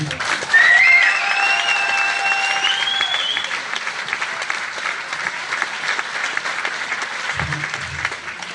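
An audience at a 2018 label award evening applauds a coach, sustained loud clapping with a sweeping musical tone over the first seconds, gradually easing toward the end.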